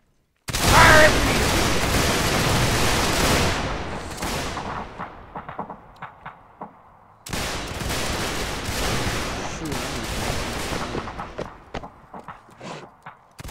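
Musket volleys crash out in a Mount and Blade Warband Napoleonic battle mod, each a sudden loud burst of many shots that tails off into scattered crackling fire, the second volley following about seven seconds after the first.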